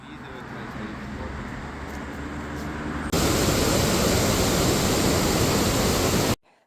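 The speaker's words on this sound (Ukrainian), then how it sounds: "Ми доїхали ще й до водоспаду Яремчі, звісно" Yaremche waterfall in western Ukraine roars as a steady broadband rush, quieter at first and then suddenly loud and close for the last few seconds before it cuts off.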